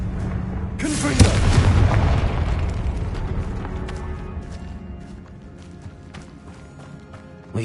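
Fire-blast explosion from the Confringo spell in Hogwarts Legacy, set in a tomb: one loud booming burst that swells and rolls into a long rumbling decay, with faint crackles trailing off.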